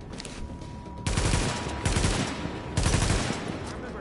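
Automatic gunfire in The Division comes in three loud, rapid bursts, each about a second long, with brief gaps between them.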